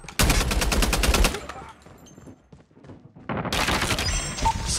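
Sentry gun in Call of Duty firing two long rapid automatic bursts, loud and close, separated by a quieter gap with faint sounds.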